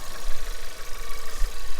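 Audi 1.4 TFSI petrol engine idling under an open bonnet, with a misfire fault: a steady, close, continuous mid-pitched hum with slight irregular roughness and no talk.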